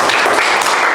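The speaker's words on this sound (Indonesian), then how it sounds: "Tepuk tangan dulu" A short burst of group clapping in a teacher-training classroom session, brief and fairly loud, with many hands together.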